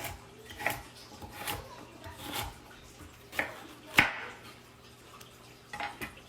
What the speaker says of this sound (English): now I'm just going to chop my carrots